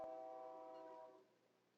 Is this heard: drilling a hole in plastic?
no